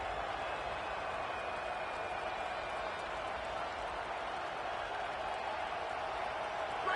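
Stadium crowd at a college football game in the second half, a steady dense roar of many voices filling the space, continuous and fairly loud throughout with no distinct individual talk.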